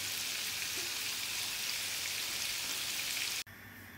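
A masala-marinated fish steak sizzles steadily on a grill with a dense, even hiss that cuts off abruptly near the end, leaving a quieter background.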